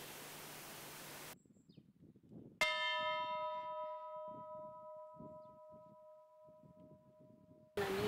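A single church bell in the village of Mechkul is struck once, ringing out loud and clear with a long, slowly fading hum over quiet background noise.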